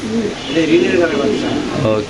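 Soft, low pigeon cooing rolls on continuously under a busy background of chatter, with a few warbling coos standing out.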